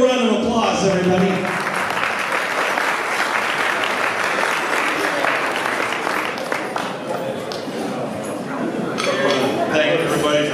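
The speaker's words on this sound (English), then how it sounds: "Give him a round of applause, everybody." Sustained audience applause fills a room at a retirement party for a departing boss, steady clapping with some cheering and chatter throughout, swelling slightly near the end.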